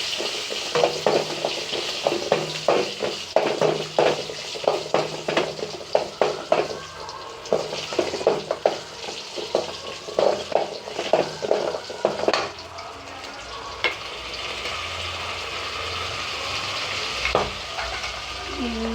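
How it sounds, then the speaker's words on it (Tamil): Green chilies, dried red chilies, coriander seeds and cumin frying in a pan for a peanut chutney, a steady loud sizzle broken by frequent stirring scrapes and clatters, with the sizzle easing and thinning toward the end. "பச்சை மிளகாய் மீறி வரமிளகா கொத்தமல்லி சீரகம் இதெல்லாம் போட்டு ஃப்ரை பண்ணிக்கலாம்"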